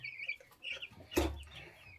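A hen with her chicks clucks softly while they eat wheat, a few low clucks and faint peeps spaced out, with one louder cluck in the middle.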